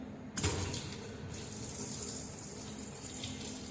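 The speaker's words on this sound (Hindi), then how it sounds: "अब हम लोग इसका पानी खोल के चेक कर लेते हैं" Water from a newly installed kitchen sink tap with hot and cold connections: a brief clunk as it opens, then a steady, close rushing stream that runs on evenly with no voices.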